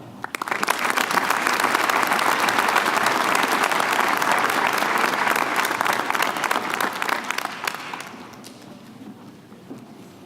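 An audience at a 2019 college commencement ceremony applauds graduates, a dense, loud wash of clapping that swells quickly, holds steady for several seconds, then thins and fades toward the end.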